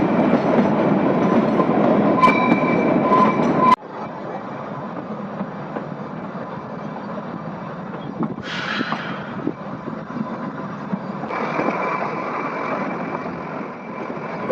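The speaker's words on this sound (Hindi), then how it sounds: "यहाँ से खुल गई है हमारी ट्रेन" Kalka-Shimla toy train running along a mountain rail track, a steady loud rumble of wheels and carriages with brief bright squeals and clanks, and a sudden drop in loudness partway through.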